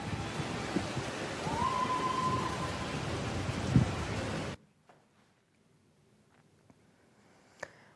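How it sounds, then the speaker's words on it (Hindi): Heavy rain pours in a dense, steady roar during a record-breaking Moscow downpour, then cuts off abruptly to near quiet, with a couple of faint distant knocks afterward. "मॉस्को में शनिवार की बारिश रिकॉर्ड तोड़ थी।"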